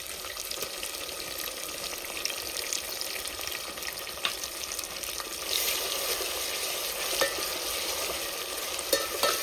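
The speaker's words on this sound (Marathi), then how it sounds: "लसण अदरक टाकतो आता" Garlic and ginger sizzle in a hot pan for spicy Vidarbha-style chicken biryani, a bright crackling fry with scattered pops and occasional scraping stirs, steady and close.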